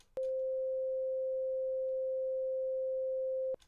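A pure 524 Hz sine test tone sounds alone, starting cleanly and holding steady and loud for about three and a half seconds before stopping sharply.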